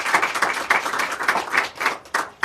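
Applause at the 2023 Maryland Preservation Awards for the City of Gaithersburg: a modest room of hands clapping in uneven bursts, fairly close, with no talk over it.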